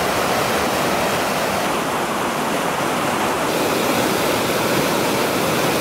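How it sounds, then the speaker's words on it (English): A river roaring along a hiking trail, a dense, unbroken rush of water that holds steady and loud throughout with no voices. "You gotta love when you see a river roaring like that."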